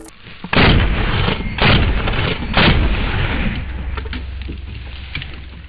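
Three heavy shotgun blasts of Magnum rounds fired into a target, each a loud, deep boom followed by a rolling echo, spaced about a second apart, with a low rumble lingering after the last.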